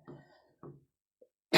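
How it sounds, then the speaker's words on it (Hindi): Two quick, close coughs in succession, followed by a short pause and then a sudden burst of noise. "खांसी हमको परेशान कर रही है भली भांति।"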